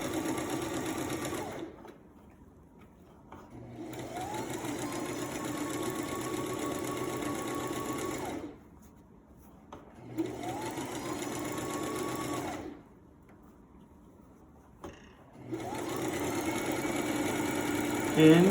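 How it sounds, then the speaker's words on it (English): A domestic sewing machine stitches a seam with a 3/8-inch allowance in repeated runs, each a steady motor hum lasting several seconds, separated by brief pauses; close and clear with no talk. "Start sewing all around."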